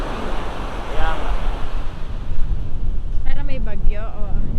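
Strong ocean surf roars continuously, loud and close with wind buffeting the microphone, waves swelling in a dense broadband wash while voices briefly speak over it near the end.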